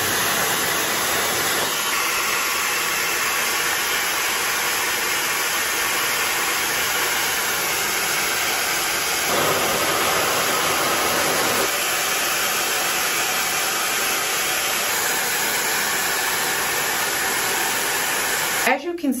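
A hair dryer, a Dyson-style dupe used for blow drying natural hair, runs with a loud, steady broadband whoosh throughout, with slight shifts in airflow as it is moved or the setting changes.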